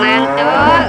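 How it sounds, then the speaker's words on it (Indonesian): A toy cow lets out one loud, close, drawn-out moo with a rich tonal quality, alone. "Wah, yang ini ada sapi."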